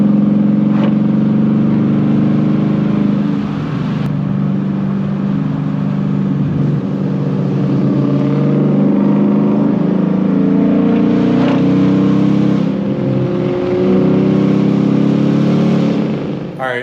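A 2019 Ford Mustang GT V8 accelerates in third gear near 3,000 RPM, a loud, steady, close engine drone that rises gradually in pitch with little change in intensity.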